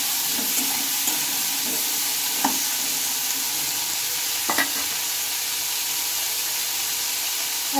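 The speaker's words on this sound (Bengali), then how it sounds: "এটা একটু ভালোভাবে নেড়ে চেড়ে নেব" Bharta ingredients stir-fry in a pan, with a steady close sizzle throughout and a few sharp scrapes and knocks of the spoon against the pan.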